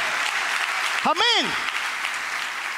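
A church congregation applauds during a Spanish-language sermon, producing a steady wash of clapping throughout, with a short spoken word from the preacher rising briefly above it.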